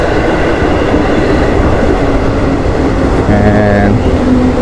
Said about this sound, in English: train is arriving